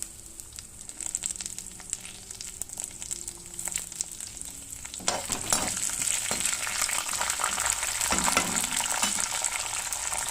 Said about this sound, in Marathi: आता त्यामध्ये मी हा लसूण टाकून घेत आहे लसूणसोबतच कढीपत्ता पण